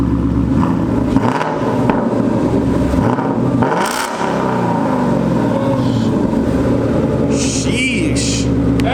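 A 2018 Mustang GT with a Corsa Sport catback exhaust idles with a deep, steady burbling rumble close by, briefly dipping and swelling midway, while faint clatter and a brief voice-like sound come near the end.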